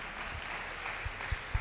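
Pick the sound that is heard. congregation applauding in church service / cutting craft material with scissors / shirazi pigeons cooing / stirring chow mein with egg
congregation applauding in church service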